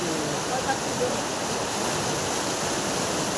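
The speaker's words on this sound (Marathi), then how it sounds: "आता पाणी बघा खतरनाक पाणी हो" Steady, loud rush of river water, a dense unbroken roar filling the whole clip with no clear pauses.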